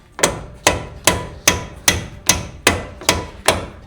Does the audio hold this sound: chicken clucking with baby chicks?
no